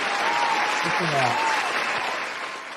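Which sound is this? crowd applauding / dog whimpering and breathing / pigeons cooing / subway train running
crowd applauding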